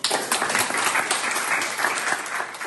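Loud, sustained applause from an indoor audience fills the whole stretch, honouring a prize-winning student at a local Lions Club event in Bojano.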